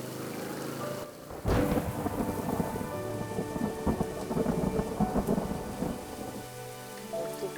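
Heavy rain pours steadily while a loud thunderclap breaks in near the start, followed by rolling rumbles under the downpour; no one speaks.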